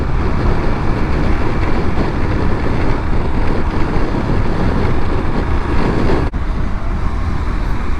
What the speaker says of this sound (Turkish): Biraz rüzgar var bugün.